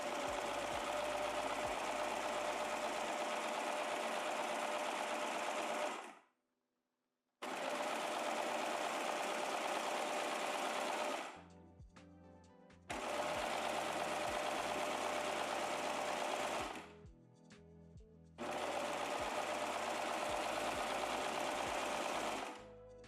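Sewing machine stitching swimwear elastic, a loud close mechanical whir running in four long bursts separated by short pauses, with faint low knocking during the gaps.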